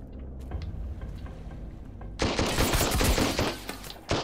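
Rapid automatic gunfire from a weapon in the survival video game Sunkenland, bursting loud and dense in the second half after a quieter stretch of game ambience, with no talking.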